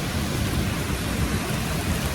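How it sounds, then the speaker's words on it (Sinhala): Heavy rain pours down steadily over a gem mining pit in Sri Lanka, a thick unbroken roar of drops with no talking. "ඔය වැස්ස නම් හොඳටම වැඩි"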